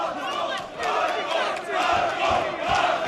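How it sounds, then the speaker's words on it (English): A Croatian crowd at a fight in Melbourne roars and chants loudly and steadily, a dense wall of massed voices with rhythmic surges of cheering throughout. "Croatian crowd really getting behind him."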